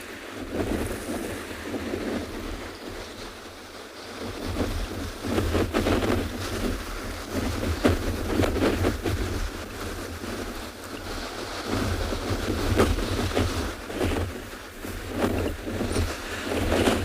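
Strong wind buffeting the microphone over waves washing on a penguin beach, a steady loud roar with surging surf, no voices.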